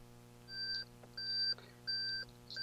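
An electronic door-open alarm, triggered by a door left slightly ajar, beeps in four evenly spaced long tones, each lasting roughly a third of a second, over a steady low hum with no talking.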